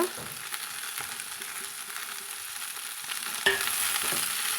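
Broad beans (avarakkai) being stir-fried for poriyal in a pan, with a steady soft sizzle and scraping stirs throughout, growing a little louder toward the end, with no voices.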